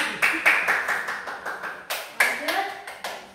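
Scattered hand claps from a small group in a classroom, a dozen or so sharp slaps in loose rhythm with a brief pause midway, close and moderately loud, with a voice heard faintly among them.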